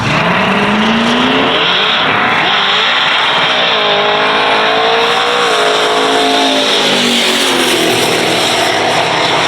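Drag race cars scream down an eighth-mile strip at a winter no-prep event, engines loud and close as they accelerate hard, pitch climbing and sweeping past with a sustained roar and some tire noise.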